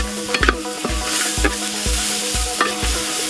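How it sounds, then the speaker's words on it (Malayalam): Sliced onions fry with turmeric and salt in a pan for a Kerala-style rabbit roast, a steady close sizzle broken by regular scraping strokes of a spoon stirring roughly every half second. "ഇത് നല്ല ഗോൾഡൻ ബ്രൗൺ കളറാകുന്ന വരെ ഇതിനെ നല്ലപോലെ ഒന്ന് ഇളക്കി കൊടുക്കാം"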